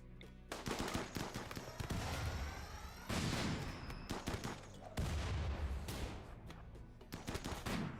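Rapid sniper and automatic gunfire rattles through a raid on a base in a Biotech Sanguophage colony game, with dense bursts of shots and heavy booming impacts continuing loudly with only brief pauses.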